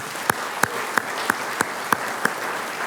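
An audience at a community college awards evening applauds dueling piano entertainers. A broad wash of clapping is punctuated by a few sharp, evenly spaced loud claps close by.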